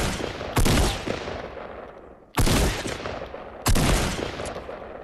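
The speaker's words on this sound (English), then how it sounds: "Today I'm going to be showing you how to do the common flick shot with a shotgun" Three loud, close shotgun blasts from Fortnite, each a sharp boom with a long tail. The first two are spaced widely and the last two come closer together.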